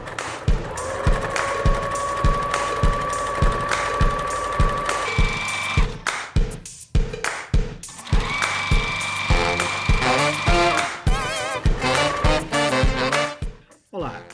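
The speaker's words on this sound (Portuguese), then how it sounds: "a gente vai começar a costurar" A sewing machine stitches the bottom seam of a dog pajama with a fast, steady mechanical rhythm of close ticks over a whirring hum, pausing briefly midway before running again until it stops.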